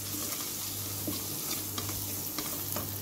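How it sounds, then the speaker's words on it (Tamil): Mutton pieces sauté in hot oil for a vegetable kurma, giving a steady close sizzle and crackle with occasional stirring scrapes, and no talking. "மட்டனை அப்படியே நல்லா எண்ணெய் போட்டு நல்லா வணக்கணும்."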